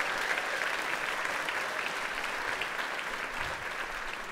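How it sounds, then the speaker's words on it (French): Applause from a studio audience fills the room with a dense, even wash of clapping, sustained and loud throughout with no pauses. "Vous pouvez applaudir bien fort, Marine."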